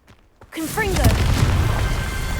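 A Confringo fire spell exploding in Hogwarts Legacy, a sudden booming burst after a short quiet lead-in, followed by a sustained roaring rumble with whooshing tones, loud and close, with a voice briefly heard.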